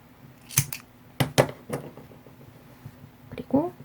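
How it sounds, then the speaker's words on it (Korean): Scissors snip through crochet yarn in a few crisp, close cuts, one alone and then a quick pair, and a voice speaks briefly near the end. "이제 실을 잘라주세요."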